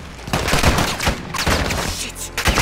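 Gunfire in the Modern Warfare 2 (2022) campaign, a loud, close firefight of rapid bursts and single cracks in quick succession throughout.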